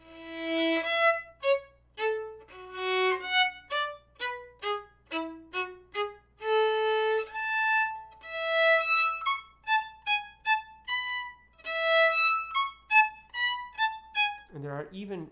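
A solo violin plays a slow passage of distinct bowed notes, each clearly separated, close and moderately loud, ending with a brief wavering tone.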